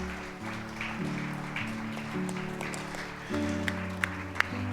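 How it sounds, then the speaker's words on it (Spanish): A church congregation claps during a service as sustained organ or keyboard chords play beneath, the applause soft and scattered with a few sharper claps near the end. "Le damos un aplauso a Cristo."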